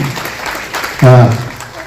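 Audience at a social unity conference applauding an honoured guest: a short burst of clapping rises under a speaker's amplified voice, brief and fairly loud against the talk.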